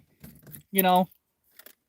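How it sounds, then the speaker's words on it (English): Car keys jangling by the ignition of a Capri, a few light metallic clinks followed by a short louder burst of rattling, then brief faint taps, close and in otherwise quiet surroundings. "a fresh set of keys doesn't fit that ignition"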